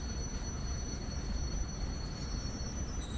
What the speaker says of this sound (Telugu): ఇప్పుడైతే మనం ఈ ట్రైన్ అయితే ఆఫ్ చేయాలి